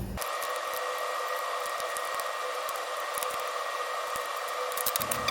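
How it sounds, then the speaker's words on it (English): A toothbrush scrubbing acrylic paint off a Bachmann model coach with isopropyl alcohol, giving a steady wet, bristly hiss with small scraping bursts throughout, close and continuous, with no talking. "I'm just gonna use a toothbrush to try and scrub off as much paint as I can"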